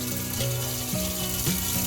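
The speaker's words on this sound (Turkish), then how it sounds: "Ev tipi musluğumuzda şu anda City Water sayesinde suyumuz kesintisiz olarak gelmiş durumda." A household-style tap runs in a caravan fed by a city water connection, a steady rushing stream with a faint shifting tonal hum underneath, close and continuous.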